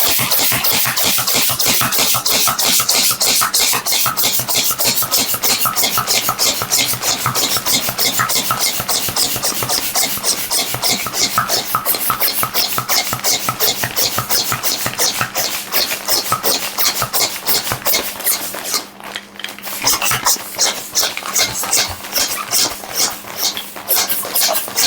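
A vacuum storage bag is compressed at home. Dense, loud rustling and hissing continues almost without a break for about twenty-five seconds, with a short dip near the end.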